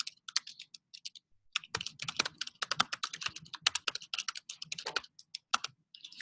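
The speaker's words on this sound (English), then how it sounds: "I'll write a little bit of text." Rapid clicking keystrokes on a computer keyboard, close and clear, typed in irregular bursts with short pauses and no talking.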